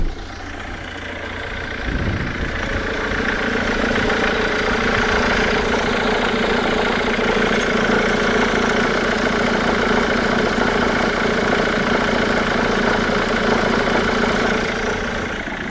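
A Ford Mondeo Mk3 engine idles loudly and steadily, heard up close, with a continuous rumble and hum that rises in level after a brief knock about two seconds in.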